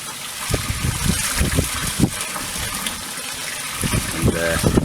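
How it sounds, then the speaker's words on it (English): A hose pipe pours dechlorinated water into a wooden goldfish pond with a steady splashing gush, while someone talks over the flowing water nearby. "the hose pipe's just there. And it's just putting nicely dechlorinated water back"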